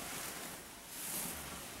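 Steady wind roaring and buffeting outdoors in the Great Smoky Mountains after rain, a broad rushing noise with gusts swelling and easing, no voices.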